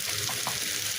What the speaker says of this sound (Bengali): করলাগুলো একটু ভাজা ভাজা হয়ে আসছে, এখন আমি পেঁয়াজ কুচি দিয়ে দেবো।